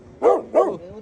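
A dog lets out two sharp, close barks in quick succession, loud and clear against a quiet outdoor background.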